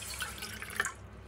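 Water is added to a pot of raw vegan Korean kale soup, giving a short close trickle and drip of liquid with a small splash near the end, with no talk.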